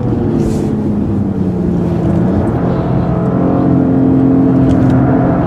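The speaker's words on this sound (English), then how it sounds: "Engine power is really good, well matched to the car." A mid-sized sedan engine pulls hard under acceleration with traction control off, a loud continuous rising drone that climbs steadily in pitch across several seconds.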